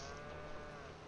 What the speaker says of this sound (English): Oh, hush, cow.